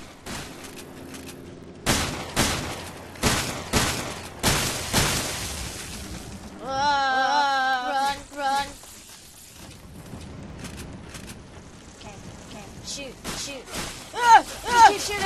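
Gunfire in the video game Resident Evil 7, a series of sharp loud shots in irregular bursts, mixed with game sound effects and a player's speech in between.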